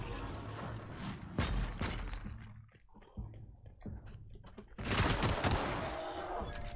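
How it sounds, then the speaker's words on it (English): Bursts of gunfire in The Outer Worlds, a dense volley early, a quieter lull with scattered shots, then a loud sustained burst of rapid fire toward the end. "someone's firing at me now"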